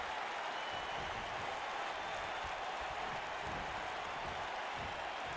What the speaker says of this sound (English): by the sound of this crowd